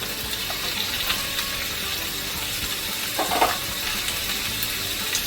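Chopped onion sizzles in a hot frying pan for Nigerian fried rice, a steady hissing fry with a brief stirring scrape midway, close and unbroken, no talking.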